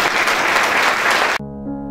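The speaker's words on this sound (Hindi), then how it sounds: "यीशु की जोरदार ताली" An audience at an Easter sermon claps loudly in a dense burst of applause that cuts off abruptly after about a second and a half, giving way to sustained musical tones.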